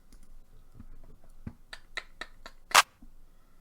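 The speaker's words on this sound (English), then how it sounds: "And we'll start with a little clap." A short clap sample is triggered in FL Studio 20, with a few crisp, dry hits in sequence and one louder, brighter clap near the end, alone without talk.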